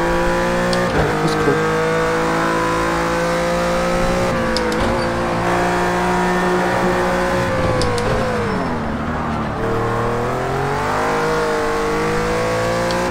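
Renault RS.01 GT3 race car in Project Cars 2 at Algarve, its engine droning loudly and continuously through rising and falling revs, with brief gear-shift blips and a dip as it brakes and accelerates again.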